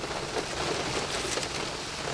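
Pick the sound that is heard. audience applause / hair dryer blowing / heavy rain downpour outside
heavy rain downpour outside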